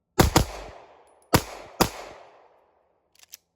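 Glock pistol fitted with a G-Flex trigger firing three loud close shots in quick succession, each with a ringing decay, followed by faint metallic clinks of brass.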